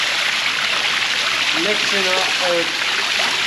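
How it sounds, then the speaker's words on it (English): Water runs steadily out of a drained tank on a dairy farm, a continuous rushing flow heard close and loud, with a person talking over it. "when I just put that plug in, that's where all the water comes out"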